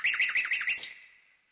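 A nightingale sings in a fairy-tale setting, a quick run of about six bright, rising warbled whistles in steady rhythm, close and clear, then fading into silence.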